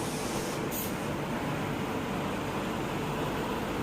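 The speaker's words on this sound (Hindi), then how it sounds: "तो आज हमारी ट्रेन में लगा है WAP7 कानपुर स्टेट का 37381" Rajdhani Express hauled by a WAP7 electric locomotive from the Kanpur shed, HOG-enabled, rolling along as a steady broadband rumble and hiss of the train in motion, continuous and even throughout with no voices.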